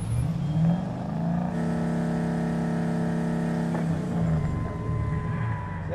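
A car engine idles with a steady, humming drone throughout a Need For Speed police chase scene, its pitch rising briefly near the start and shifting again toward the end.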